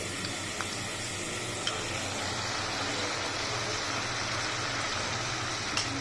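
Cumin and other spices mixed with a little water sauté in oil for a rohu fish curry with potato and pointed gourd, a dense unbroken sizzle with faint ticks of a stirring spoon, close and steady.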